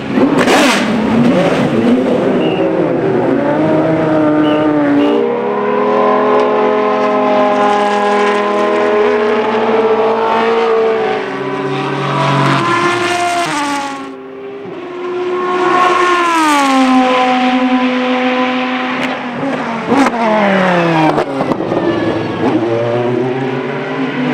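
Classic Ford Mustangs at a Mustang Day gathering of about 150 cars during Classic Days 2010, engines revving loudly and continuously with repeated rising and falling pitch sweeps, no talking.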